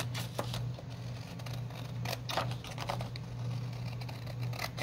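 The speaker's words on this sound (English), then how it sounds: "I hate cutting those corners off" Scissors snip the corners off paper for a junk journal booklet notepad, a series of quiet, crisp clicks and cuts over a low steady hum.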